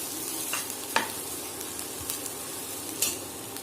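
Ghee rice mixture with salt is stirred in a pressure cooker, a spoon scraping and clinking against the pot in a few distinct strokes over a faint sizzle.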